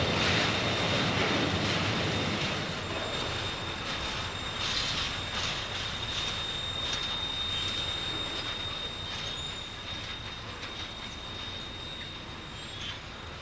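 A freight train hauling shipping containers rolls past in Pennsylvania near a tunnel and viaduct, a continuous loud rumble of wheels on rail with a high steady squeal running over it, fading slightly toward the end.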